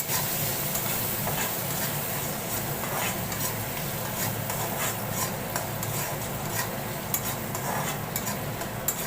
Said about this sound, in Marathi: मी त्याच्यामध्ये आता बटाटे टाकते हे कापलेले बटाटे चांगले परतून घेते